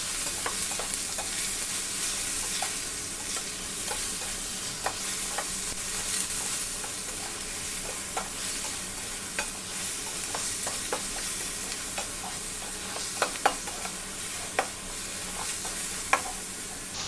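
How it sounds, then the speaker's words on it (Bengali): Cut meat fried and stirred in a pan, a dense constant sizzle under a steady run of quick spatula scrapes and clicks, with a few louder knocks toward the end, no voices. "কেটে রাখা মাংসগুলো দিয়ে ভালো করে ৩-৪ মিনিট নেড়ে চেড়ে"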